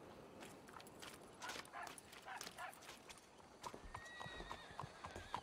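Horse hooves and whinny in the video game Red Dead Redemption 2, a run of clip-clop steps with a high neigh near the end, alongside a few faint dog-like yips.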